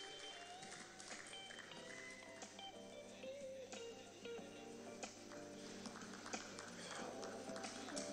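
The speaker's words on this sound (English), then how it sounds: "Keep clapping, ladies and gentlemen." Audience applause fills an award ceremony hall, a steady dense patter of clapping that carries on throughout with a voice speaking over it.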